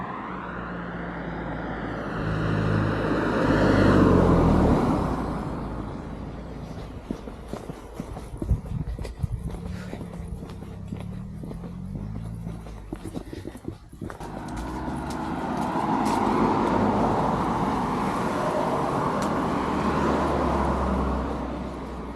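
Traffic on a busy, fast main road with a bend at each side, heard outdoors on an estate near a gritstone edge as a steady roar of passing vehicles that swells and fades, with a clattering passage in the middle.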